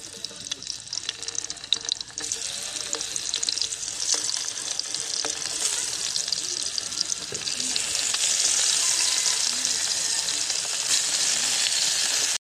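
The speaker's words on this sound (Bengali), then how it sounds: "তেল মাছগুলো তেলে সাজিয়ে দিমু" Small puti fish fry in hot oil over an outdoor village cooking fire, giving a steady close sizzle and hiss that swells louder toward the end, with no talking.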